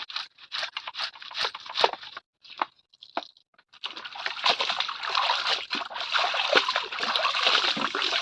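Clothes being washed by hand: irregular splashes and wet slaps at first, a brief lull, then continuous close sloshing and splattering water.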